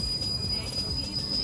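A train pulls into a UK railway station with a steady rumble and a thin high wheel squeal, and voices are faintly present nearby.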